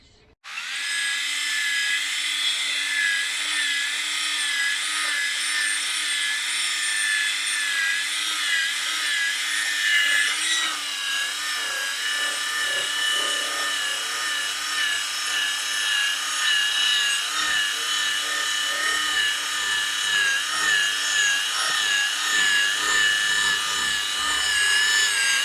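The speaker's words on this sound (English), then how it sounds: "keep dipping the paper in the water so that the paint that's coming off doesn't clog the sandpaper up and cause it to start scratching" Wet sanding of car paint by hand with water-dipped 2000 grit sandpaper, a steady close rubbing scrape with rhythmic back-and-forth strokes that continues without pause throughout.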